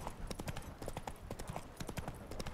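Roach, a horse in The Witcher 3, gallops with a fast, steady clip-clop of hooves, loud and close throughout, with faint game ambience underneath.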